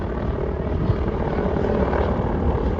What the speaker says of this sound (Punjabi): Indian army the helicopter